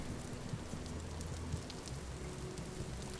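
Steady rain in the video game Vintage Story, heard from inside an open, airy shelter: a constant soft patter and hiss of drops on the surface, even and unbroken, with no talking.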